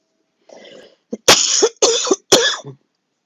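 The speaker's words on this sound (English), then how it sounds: "Please excuse the cough." A person coughs several times in quick succession, close and fairly loud, with throat-clearing sounds between the bursts, alone in a quiet room.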